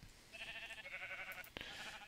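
A single Minecraft sheep gives a faint, wavering bleat lasting over a second, ending with a small click.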